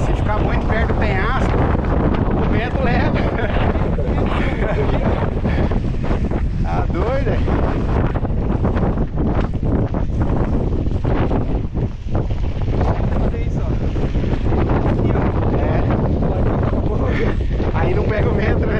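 Strong wind blowing at a cliff edge in the Serra da Canastra hills, a loud continuous roaring buffet across the microphone with gusting surges throughout.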